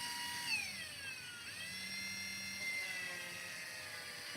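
A small rotary drill whines at a high pitch, its tone sliding down and up as the motor changes speed, close and fairly quiet.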